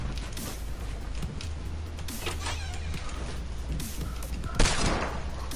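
Several heavy hand cannon gunshots in Fortnite Battle Royale ring out at intervals, sharp and fairly loud over a low steady background hum.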